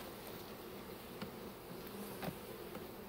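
Honey bees from a freshly installed package buzz inside their new hive with a faint, continuous droning hum and a few closer individual bees passing briefly.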